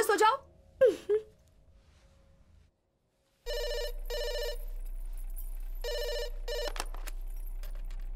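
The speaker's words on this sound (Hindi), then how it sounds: "तुम्हारे लिए फोन है" A telephone rings late at night in several repeated electronic bursts with short gaps between them, following a few brief vocal sounds and a moment of silence.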